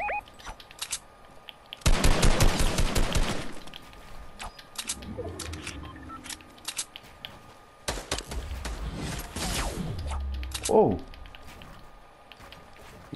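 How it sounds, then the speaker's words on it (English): Fortnite gunfire in a duo match: dense bursts of rapid shots crackle out around the two-second mark, with further volleys later, mixed with game effects and a voice speaking over the action. "I got shot from behind"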